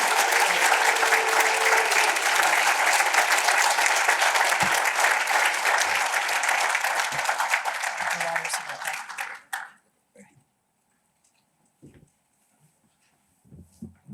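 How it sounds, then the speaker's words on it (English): An audience claps loudly and continuously for State Representative Kam Buckner at a morning event. The applause holds strong for about nine seconds, then cuts off into near silence broken by a few faint stray sounds. "I'd like for everybody to give a round of rousing applause for Representative Buckner."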